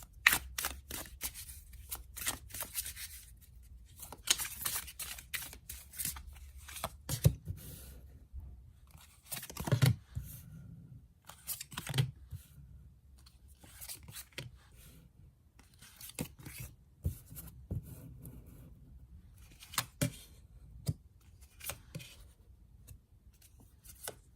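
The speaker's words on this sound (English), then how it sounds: "let's shuffle some cards and gauge this energy for air signs" Tarot cards riffle and slide in scattered bursts of crisp papery clicks and snaps, quiet and close, with pauses between shuffles.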